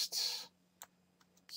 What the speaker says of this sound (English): Let's maybe type some text.